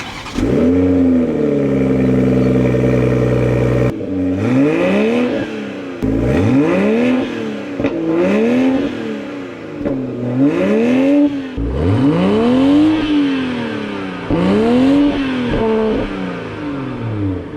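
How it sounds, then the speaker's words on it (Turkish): A 2021 Toyota Supra's twin exhausts rev hard several times in a row, each throttle blip rising in pitch and falling back, loud and close with short pauses between. "Sırada bu egzozları bir deneyelim."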